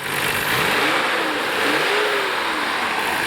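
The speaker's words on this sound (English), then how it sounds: "I guess first I'll show you the engine rev" A 1991 Nissan Skyline GT-R engine with individual throttle bodies revs up and down in a few swelling pulls, loud and close, with no voices.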